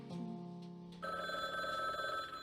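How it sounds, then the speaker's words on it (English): A telephone rings in the Frog Detective 3 video game, a steady electronic ring that starts partway through and holds loud and clear over a soft musical background. "One final phone call."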